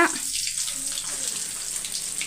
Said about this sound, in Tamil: எண்ணெய் நல்லா காஞ்சிருச்சு கடுகு போட்டுக்கோங்க